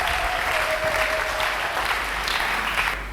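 A church congregation applauds loudly during a sermon, a dense, steady wash of many hands clapping that carries on without a break and eases off slightly at the very end.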